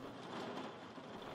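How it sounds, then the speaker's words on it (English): A quiet, steady wash of rain hisses evenly with a faint low rumble beneath, a soft storm ambience with no voices. "listen to the rain."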